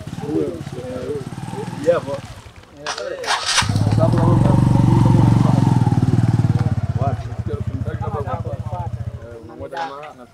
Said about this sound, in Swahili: Pikipiki kuondoka au pikipiki inapoanza kuondoka